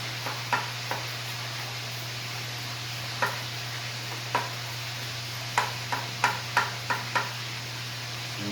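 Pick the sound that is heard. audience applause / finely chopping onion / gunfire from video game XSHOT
finely chopping onion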